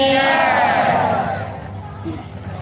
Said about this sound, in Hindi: सभी लोग प्रेम से जयकारा लगाएंगे